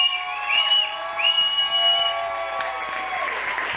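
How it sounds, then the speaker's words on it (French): A live audience at a show in Ham-Nord bursts into sustained applause mixed with shrill whistles, loud and continuous, the clapping growing denser toward the end. "applaudissez Yann, donnez tout ce qu'il vous reste à Yann"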